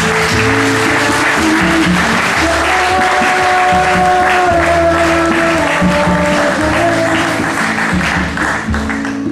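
A church congregation claps and cheers in praise of the Lord, with loud, sustained applause blended with music and voices throughout.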